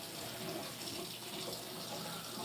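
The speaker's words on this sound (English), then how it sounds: "Make sure you got the whole thing rinsed off there." Tap water runs steadily into a kitchen sink as a pan is rinsed, a continuous close hiss and splash with no talk.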